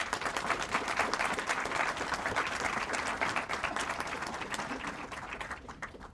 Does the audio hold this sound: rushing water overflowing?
no